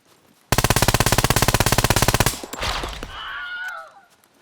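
Advanced rifle firing full-auto in the SCUM video game, a rapid, loud burst of about two dozen evenly spaced shots lasting under two seconds, followed by echoing rattle and a faint whine.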